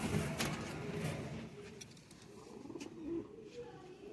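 Male pigeon cooing in a loft among other birds, soft low coos repeated several times close by, with faint chirps and background noise.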